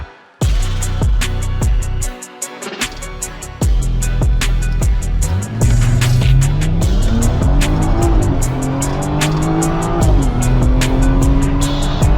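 A BMW 340 race car engine screams loudly and continuously during a race, revving up through gears with sharp shifts, clattering pops, and a rising whine.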